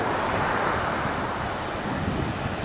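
Surf rolls in at Maravanthe beach in Karnataka, where the sea runs alongside a river and a road, giving a loud, unbroken wash of waves and wind with no voices.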